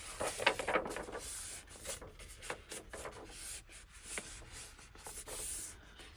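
Paper journal pages being folded and creased by hand, with soft rubbing, rustling swipes and light taps close up, no talk.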